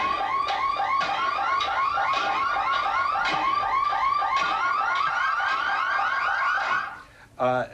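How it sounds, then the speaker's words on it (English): Car alarms blare continuously on a city street in a fast, repeating warbling pattern, loud and steady, then briefly cut out before another chirp near the end. "Up here are more alarms. Basically, it's pile driver and alarms."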